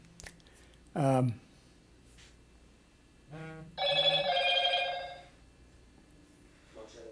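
A cell phone rings in a home recording setup. The ringtone comes in short tonal bursts, one sharp chirp followed by a longer warbling ring, and sounds faint and somewhat distant against a quiet room.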